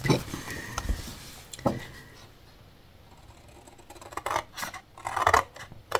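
Scissors snip paper for a handmade scrapbook box, several short crisp cuts and scratchy strokes close by, with a pause in the middle before a quicker burst of cutting; someone speaks in French between them.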